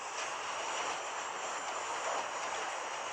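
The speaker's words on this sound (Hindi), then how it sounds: "पायलट्स ने उड़ान भरने के लिए विमान के अगले हिस्से को ऊपर उठाया" Airliner taking off from a runway, a steady, moderately loud roar of jet engines with no talk over it.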